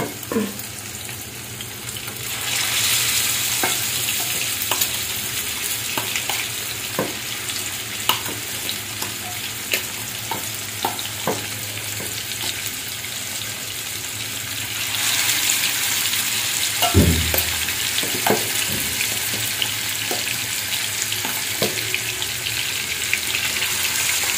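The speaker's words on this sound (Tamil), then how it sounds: "ஃபிஷ் ஃப்ரை பண்ண போகிறோம். ஃபிஷ் ஃப்ரை பண்ணலாம்." Fish fries in hot oil in a village-style kitchen, a continuous close sizzle and crackle with occasional sharp pops and stirring clicks throughout.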